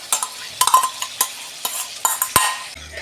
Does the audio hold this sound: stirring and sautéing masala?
yes